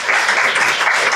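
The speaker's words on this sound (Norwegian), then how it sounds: "det synes jeg nesten fortjener en liten applaus" An audience at a breakfast meeting applauds, a dense, steady burst of many hands clapping, loud and close, lasting only a moment.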